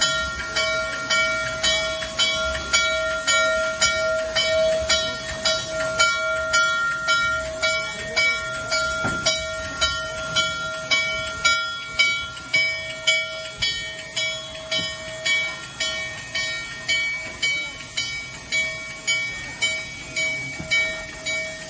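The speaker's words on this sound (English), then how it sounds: "Rail Museum in Pennsylvania, Tony and I came up to video the 7002 locomotive" Steam locomotive 7002 at a Pennsylvania rail museum, giving a strong steady rhythmic chuffing beat with metallic clanking and a sustained whistle-like tone, loud and close for over twenty seconds with no talk.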